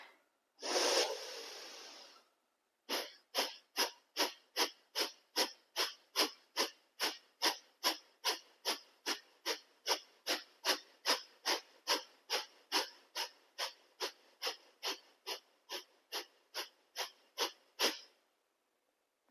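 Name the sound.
deep breathing during a yoga exercise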